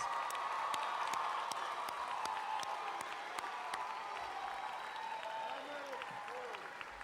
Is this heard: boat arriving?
no